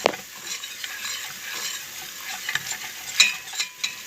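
Flour roasting in butter in a pan for trotter soup, a steady soft sizzle under repeated stirring scrapes, with a few sharper utensil clicks toward the end.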